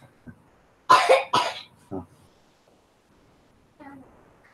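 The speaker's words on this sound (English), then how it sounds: "You got a bad cough." Two harsh coughs in quick succession, followed by a short third one, close and loud, then quiet with faint murmuring.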